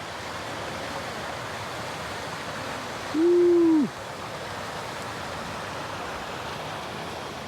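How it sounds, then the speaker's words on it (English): A waterfall on the John Muir Trail near Mather Pass gives a steady, distant rushing wash that runs throughout. A brief voiced whoop cuts through the middle. "The waterfall up there."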